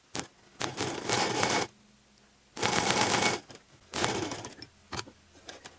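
Sewing machine stitching a pocket fabric onto palazzo pants, running in three rapid mechanical bursts of a second or more each, separated by brief pauses and a few short clicks, close and fairly quiet.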